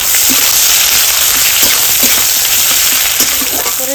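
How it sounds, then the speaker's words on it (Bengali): Chopped onion frying in a pan with two bay leaves for aloo posto gives off a loud, dense, steady sizzle and crackle, close up with occasional light clicks and no talking. "তারপরে কুচানো পেঁয়াজটা দিয়ে ভাজবো।"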